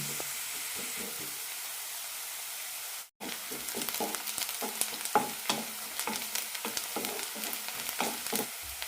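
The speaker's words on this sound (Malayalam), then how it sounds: "സവാള ചെറുതായി ചോക്കുന്നതുവരെ വഴറ്റാം" Chopped onions sautéing in a pan for paneer kurma, with a constant soft sizzle and rhythmic stirring scrapes, close up and fairly quiet, briefly cutting out for a moment partway through.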